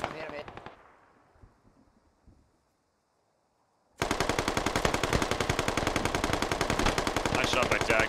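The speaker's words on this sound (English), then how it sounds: "Nice shot by Dag there" Machine gun fire in the military video game Squad: one burst fades into near silence, then a loud, dense, sustained stream of rapid automatic shots fills the rest of the clip.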